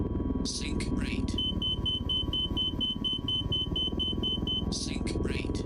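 A steady electronic warning beep repeats at an even rapid pace for several seconds in an F-14 Tomcat cockpit in a flight simulator game, sounding over constant engine rumble, with short synthetic voice callouts before and after.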